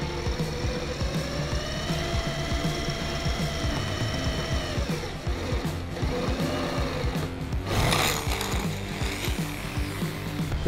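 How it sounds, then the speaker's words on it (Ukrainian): An electric drill with an 8 mm bit whines steadily while boring into 5 mm thick steel plate, with a rattling, grinding texture throughout and a brief harsher burst near the end. "8-мм сверла будемо робити отвір у металі товщиною 5 мм"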